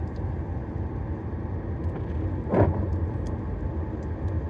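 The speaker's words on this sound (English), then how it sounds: "driving a car right now" A steady low rumble of a car driving, with continuous road and engine noise and one brief louder swell of passing sound midway.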